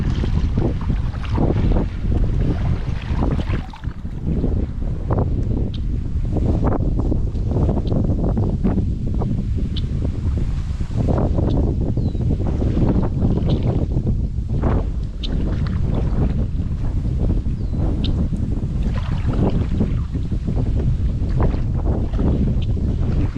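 Strong wind gusts buffet a kayak on a river in Eastern Washington. A loud, continuous roar of wind on the microphone blends with the wash of water, and no one speaks.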